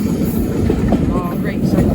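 A heritage railway train on the Great Central Railway rumbles along the track, heard from aboard as a loud, continuous low roll with faint rhythmic clatter.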